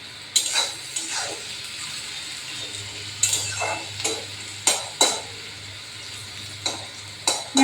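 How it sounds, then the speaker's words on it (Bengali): Onions frying in oil in a pan for Bengali pabda fish curry, with a soft steady sizzle and a spatula scraping and stirring in sharp intermittent strokes, close and fairly quiet. "পেঁয়াজটা ভাজতে থাকবে"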